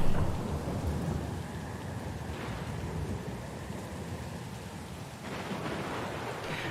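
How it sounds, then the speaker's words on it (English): Steady heavy rain and low rumbling thunder from a stormy scene in the video game Pillars of Eternity II: Deadfire, a dense continuous wash with swelling surges, no voices. "The storm's pretty loud."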